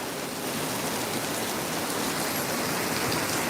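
Heavy, noisy summer rain pours down in a dense, steady hiss with constant drops pattering on surfaces, close and uninterrupted.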